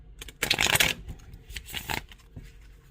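Tarot cards being shuffled by hand, two distinct bursts of riffling and sliding with a short pause between, close and fairly soft.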